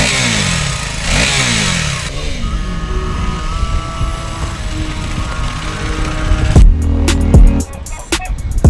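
A KTM Enduro 390 R off-road motorcycle engine runs loud and close, revving in rising and falling sweeps before a couple of sharp throttle blips near the end, with no talking.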